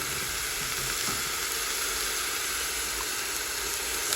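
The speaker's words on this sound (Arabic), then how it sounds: "نقلي البصله ونولو مع بعض" Onion and meat fry in a pan with a loud, steady, close hissing sizzle that runs unbroken throughout.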